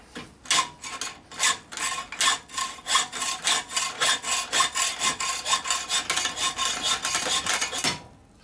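Hand hacksaw cutting through a stud, with a steady run of about twenty rhythmic back-and-forth rasping strokes, close and loud, quickening slightly before stopping abruptly near the end.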